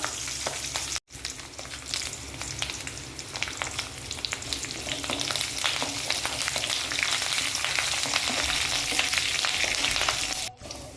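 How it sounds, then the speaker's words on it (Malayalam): Three dried red chillies fry with curry leaves in hot oil for a bilimbi (irumban puli) pickle. The oil gives a steady, close crackling sizzle, with light stirring throughout and no voices. "3 വറ്റൽമുളകും കൂടെ ചേർത്ത് കൊടുക്കാം."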